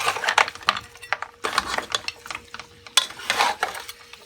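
Beef frying in a pot for Guyanese pepper pot, with close bursts of sizzling and rattling scrapes coming in uneven waves and brief quieter gaps between them.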